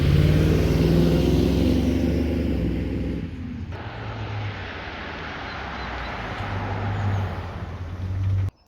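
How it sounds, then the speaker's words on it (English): A Land Rover Discovery 2 V8 with a freshly rebuilt engine runs at a steady idle, then its tone drops and settles into a rougher, lower hum, close and loud throughout. "here it is, our Discovery 2 V8 now working"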